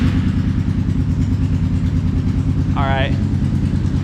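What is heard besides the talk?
ATV loud exhaust revving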